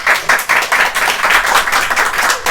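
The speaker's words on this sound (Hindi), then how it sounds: "कांग्रेचुलेशन, तालियां" A class of students clapping together for a classmate, a brisk burst of hand claps in quick uneven rhythm, close and fairly loud with no talk over it.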